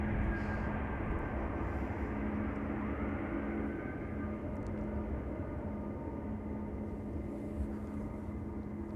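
A DHL cargo aircraft arriving from Leipzig at Amsterdam Schiphol Airport, heard as a steady, moderately distant engine roar that holds throughout and eases slightly partway through, with no voices.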